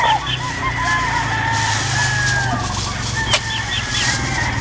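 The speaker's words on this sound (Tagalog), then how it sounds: "Grabe manok." Many chickens on a poultry farm cluck and crow in a dense, continuous flock chorus, with calls from several birds overlapping near and far. Low steady machinery or a water-like hum runs underneath.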